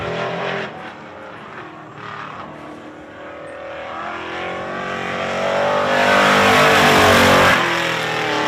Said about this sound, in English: Dean joining us from Wembley, Alberta, racing a 1981 Chevy Camaro with a 602 crate engine.